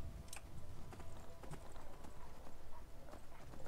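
A horse's hooves clip-clop steadily in the video game Skyrim, a quick, fairly faint run of hoof beats lasting a few seconds.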